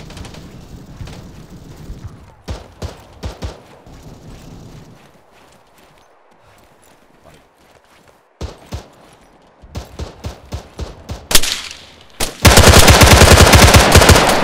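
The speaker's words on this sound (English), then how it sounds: "just start laying fire into the town" Gunfire in Arma 3 during an infantry assault on a town: scattered single shots and short bursts crack in clusters, then sustained loud automatic fire erupts near the end.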